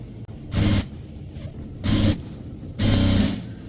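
Sewing machine stitching a box-pleated school uniform skirt, three separate bursts of rapid mechanical whirring about a second long each, close and fairly loud, with quiet pauses between.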